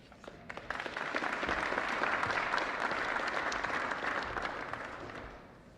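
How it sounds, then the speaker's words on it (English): Sustained applause from a crowd at a police press conference in East St. Louis, honoring the Illinois State Police, building quickly and holding steady for several seconds before tapering slightly. "Illinois State Police, give them a round of applause."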